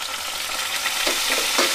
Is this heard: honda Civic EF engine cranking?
no